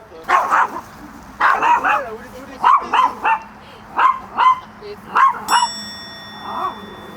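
A dog, a formerly abandoned rescue, barks repeatedly at another dog in sharp bursts spaced about a second apart, close by, with a metallic ding near the end.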